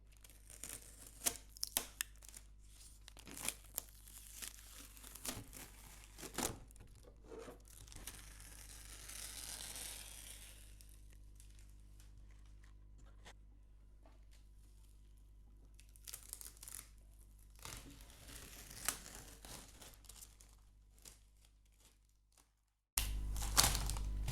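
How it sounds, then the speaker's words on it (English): Sticky tape is peeled off paper in a quiet room, with a few short bursts of ripping and crinkling near the start and again later, separated by near silence. "now when you tear your sticky tape off"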